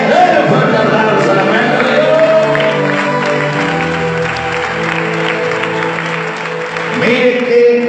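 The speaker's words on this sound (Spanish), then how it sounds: "el que se dice, el fuerte aplauso" Loud, sustained applause from a church congregation fills the space, with crowd noise and voices mixed in throughout.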